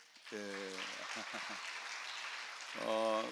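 Enthusiastic clapping from a church congregation rings out continuously, with a voice speaking over it at the start and again near the end.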